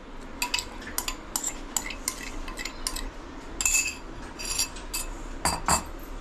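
Chicken marinade being stirred together with a ground paste of coriander leaves, green chilli, ginger and garlic, producing repeated close spoon clinks and scrapes against a bowl at an irregular rhythm.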